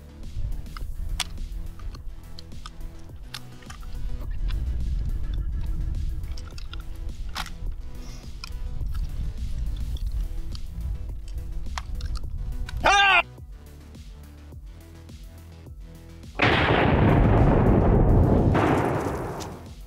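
Gunchucks fire rigged watermelons that burst on impact at the muzzle, giving scattered sharp cracks and thumps over a low rumble, then a loud, broad blast of wet spray near the end.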